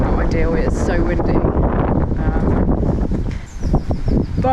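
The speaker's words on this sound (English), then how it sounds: "Now conditions are really not ideal. It's so windy." Strong gusting wind roars and buffets the microphone outdoors, loud and continuous, with brief snatches of talking mixed under the noise.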